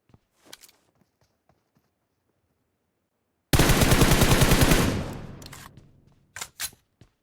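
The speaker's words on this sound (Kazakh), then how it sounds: "Мын жақтан кім атты маған?" Gunfire in the mobile game PUBG Mobile: a sudden loud, rapid automatic burst lasting about a second and a half that tails off, preceded by faint footsteps and followed by a few short sharp sounds, with no speech.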